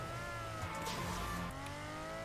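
A car engine revs and accelerates in the video game Fortnite, a short continuous whine rising in pitch against game background sounds.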